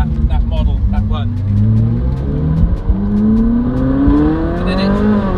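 A McLaren Senna sports car accelerates hard, its engine note rising loud and close through the gears, with someone talking over it.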